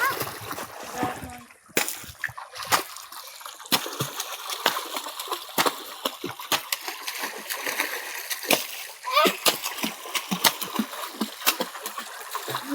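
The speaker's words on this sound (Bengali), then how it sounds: "আমি সাঁতার কাটছি" A child splashing while swimming in water, heard as steady close sloshing and frequent sharp splashes with bursts of water throughout, and a voice talking over it at times.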